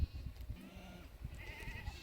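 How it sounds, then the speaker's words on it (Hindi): Sheep and goats of a herding flock bleat in an outdoor forest camp among tents, with overlapping calls rising and falling against steady rumbling background noise. "तो इत ये भेड़ बकरी जमा होएगी"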